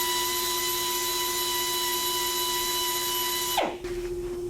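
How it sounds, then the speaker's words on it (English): A steady machine whine with a strong fixed hum fills the air while a ball hone works the cylinders of an engine block, then abruptly winds down, pitch sliding lower as the tool stops near the end. "This is a ball hone."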